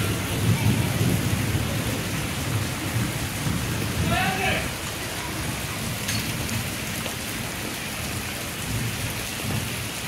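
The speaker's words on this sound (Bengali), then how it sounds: "এদিকে মেঘ ডাকছে কেমন করে।" Steady rain hisses throughout while low thunder rumbles in the distance early on; a faint bird call rises briefly in the middle.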